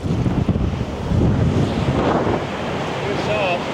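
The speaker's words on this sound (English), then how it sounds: "So wind straight off the right." Strong wind buffets the microphone on a golf course, producing a loud, steady rumble and roar throughout.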